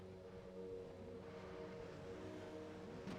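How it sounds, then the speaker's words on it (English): Sustained engine drone of open-wheel Formula Super Series race cars in the iRacing sim at Mobility Resort Motegi, steady harmonic revving held at a constant loud level throughout, with no talk. "I hear revving."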